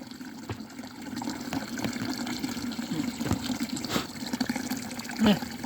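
Water runs steadily from the Papra fountain in the village of Kalogeritsa, a continuous close splashing trickle with small gurgles, while a voice talks over it.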